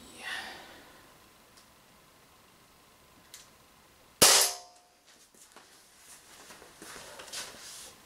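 An Umarex Walther PPQ M2 air pistol fires a single sharp, loud shot at a tin can, a crisp crack standing out midway through otherwise quiet surroundings with faint small noises.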